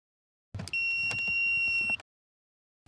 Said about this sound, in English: plug the T-box to the OBD2 port and it should make a loud beep